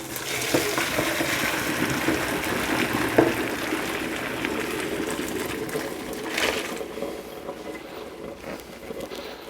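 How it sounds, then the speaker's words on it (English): Hot water poured off boiled pasta into a drain, a steady broadband splashing and trickling rush that runs throughout, fairly close, with a few brief clanks and no talking. "we're going to be draining the water from the pasta"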